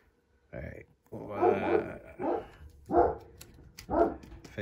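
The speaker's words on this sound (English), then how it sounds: "They can hear the dog." Indoor dog barks and grunts in a run of several short, close, fairly loud woofs spread over a few seconds, with people talking around it.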